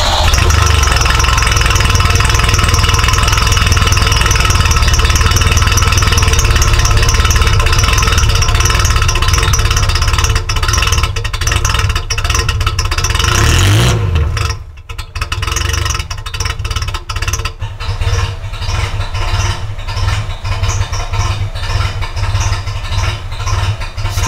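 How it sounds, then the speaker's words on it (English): A Ferrari engine runs loud and steady for about fourteen seconds, then drops off sharply and settles into a rougher, quieter idle with small fluctuations. "so let's fire this thing up"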